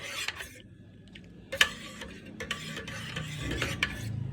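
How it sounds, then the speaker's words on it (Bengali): Spoon stirring coffee with milk, no sugar, in a cup: light scraping clinks against the ceramic, close and fairly quiet, in short bursts over a low background hum. "আর কফিটা নাড়ব"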